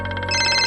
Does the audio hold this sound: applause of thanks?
no